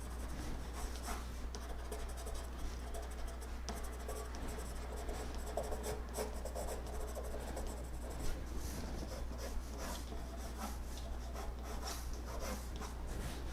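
Colored pencil shades a background on paper while drawing the base of a tree trunk, giving a continuous close, dry scratching of steady back-and-forth strokes with no talking.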